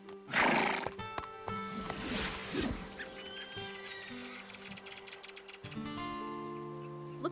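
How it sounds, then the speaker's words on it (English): A cartoon horse gives a loud, shrill whinny up front, followed by snorts and softer neighs over a background music bed, with faint hoof clip-clops mixed in. "when horses neigh to each other, it's about status and rank"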